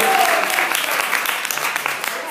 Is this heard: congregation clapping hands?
yes